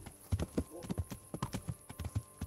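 Horse hooves clip-clop on a path in Kingdom Come Deliverance, a brisk uneven run of close hoofbeats with someone talking over them.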